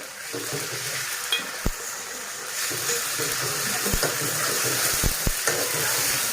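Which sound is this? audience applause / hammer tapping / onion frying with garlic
onion frying with garlic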